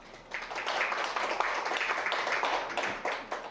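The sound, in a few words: audience applause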